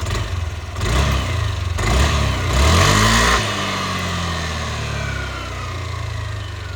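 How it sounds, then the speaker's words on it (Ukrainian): A Yamaha Aerox 155 scooter engine from 2023 runs steadily at a quiet idle, with a brief rev and a light mechanical clatter near the start before it settles into an even hum. "Дуже приємно працює двигун, тихенько."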